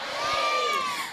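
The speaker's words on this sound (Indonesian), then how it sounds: "Indrajaya, tepuk tangan untuk semuanya." An audience at an Indonesian Independence Day religious gathering cheers and shouts in a short, loud burst of crowd voices.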